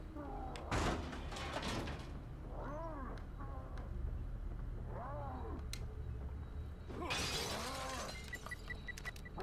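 A door is kicked down with a heavy crash and splintering burst in the horror game The Evil Within, followed by eerie creaking and wailing ambience; another loud breaking crash comes near the end.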